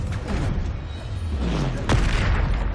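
Booming spell blast from the Bombarda curse in the Hogwarts Legacy video game, a steady low rumble with a sharper impact near the end, loud and continuous with no talk.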